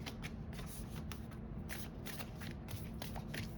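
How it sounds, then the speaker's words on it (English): Tarot cards being shuffled by hand in a quick run of riffling, papery bursts, close and steady, with no voices. "One more shuffle."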